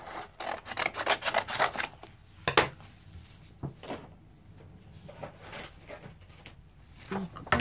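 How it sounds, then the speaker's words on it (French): Paper for a junk journal cover is cut with scissors in close, rasping snips, bursts of crisp cuts separated by pauses and handling rustles, with a voice speaking at times. "Alors, je vais couper ça comme ça."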